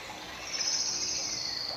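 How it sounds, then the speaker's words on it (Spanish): Small birds singing outdoors in nature, a steady bed of high thin chirps and trills with insect-like buzzing, fairly faint and continuous throughout. "oigan, los pajaritos."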